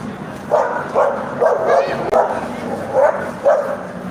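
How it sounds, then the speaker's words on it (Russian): A dog barks in short, sharp bursts outdoors on a cold street, about seven barks in an irregular rhythm at moderate distance, with faint background noise and no clear talk over them. "О, опасная собачка"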